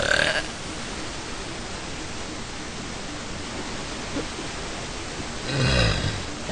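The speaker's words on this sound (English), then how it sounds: "My burps are wimpy, I know, but they're freaking long as hell" A woman forces out a long, faint burp near the end, a low rasp of about a second rising from a steady hiss of background noise.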